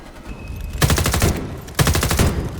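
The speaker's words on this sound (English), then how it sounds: "This mission has a lot more shootout moments, a lot more, like gunplay set pieces" Two sustained bursts of rapid automatic gunfire in Homefront: The Revolution, loud and close, separated by a short pause with no talk.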